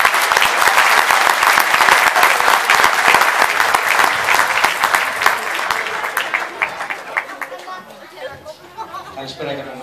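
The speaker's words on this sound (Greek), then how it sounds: "Ένα θερμό χειροκρότημα στον Στέλιο Γιαννακόπουλο" Warm applause from a gathered audience for Stelios Giannakopoulos, dense and loud at first, then thinning into scattered claps with some chatter in the room.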